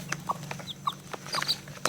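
Chickens cluck in short, scattered bursts, quick and uneven, at a modest distance and fairly quiet, with no one speaking.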